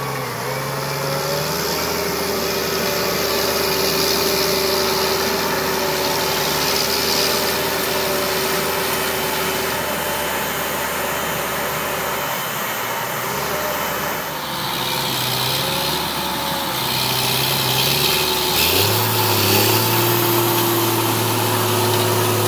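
Challenger tractor engine pulling an 8-meter Vaderstad seed drill across a field in East Anglia, a continuous loud drone with shifting pitch and heavy rumble, heard steadily throughout with no talk.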